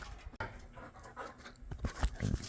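A dog pants in quick rhythmic breaths up close, with some shuffling and handling noise around it, outdoors near a property with a Bombardier snow vehicle and an airboat.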